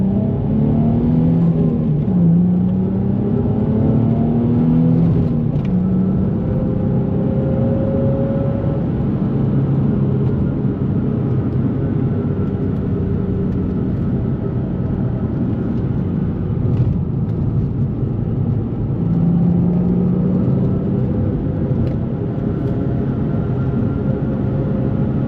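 A 2004 Nissan 350Z engine revs repeatedly, loud rising and falling swells over a steady low rumble, with several distinct pulls spread across the stretch and no talking.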